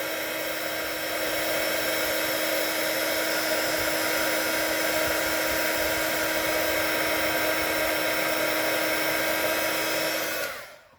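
A heat gun blows continuously as it melts embossing powder for hot embossing, a loud, steady, close whirring hum that holds for about ten seconds before switching off.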